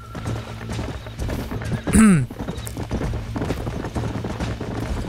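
Horse hooves clip-clopping in Red Dead Redemption: a steady rhythmic trot under background music and game sound, with one brief whinny-like swell near the middle.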